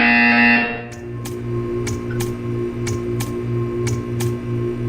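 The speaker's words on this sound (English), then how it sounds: "You will hear a buzzer." A loud electronic buzzer in Portal 2 blares for about half a second, then a low hum continues with a series of faint, regular clicks.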